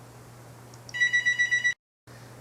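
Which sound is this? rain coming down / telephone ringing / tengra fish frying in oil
telephone ringing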